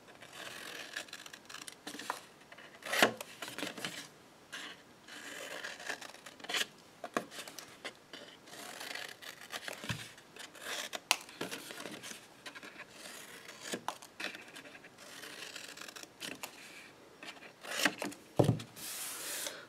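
Scissors cutting through paper packaging on a craft table: quiet, intermittent snips and rustling paper rubs, with occasional sharper clicks, close by and fairly faint.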